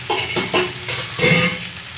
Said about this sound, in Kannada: ಬನ್ನಿ ಇವಾಗ ನೀರು ಹಾಕೋಣ.